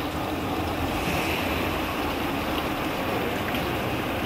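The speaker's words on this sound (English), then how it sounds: "if you ever see a fountain like this, you can drink the water" Water runs steadily from a public drinking fountain on a street in Zurich, Switzerland, giving a close, constant rushing splash with no pauses and no voices.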